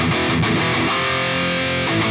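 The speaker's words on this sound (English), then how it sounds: "Our first outro riff will sound like this" Heavily distorted electric guitar plays an outro riff: loud, dense palm-muted chords that ring into a sustained chord, with no talking over it.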